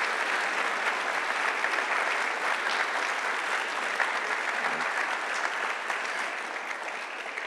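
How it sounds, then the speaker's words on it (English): Audience at a high school keynote applauding a business aviation group, a sustained, even wash of many hands clapping that eases slightly near the end. "another round of applause for the National Business Aviation"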